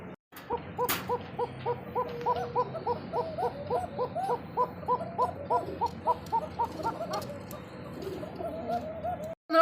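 Lahori and Danish pigeons, a male and female pair, coo in a steady rhythmic series of soft, close, repeated notes lasting several seconds in a quiet setting.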